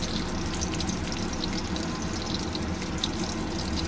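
Cumin seeds sizzle in hot oil for tempering, a steady, loud, close frying hiss that runs unbroken throughout with no talking.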